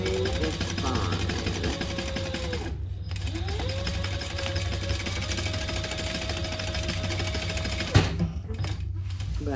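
A home sewing machine stitches non-interfaced cotton, a steady close mechanical whir running continuously with a brief pause near the three-second mark and a small knock near the end.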